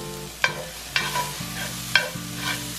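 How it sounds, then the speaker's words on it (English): Rice is stirred into softened, split tomatoes sizzling in a frying pan, with a steady low hiss under repeated scraping strokes of a utensil against the pan, close and clear. "So I'm gonna add in the rice."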